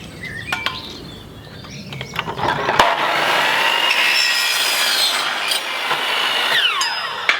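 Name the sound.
compound chop saw cutting aluminium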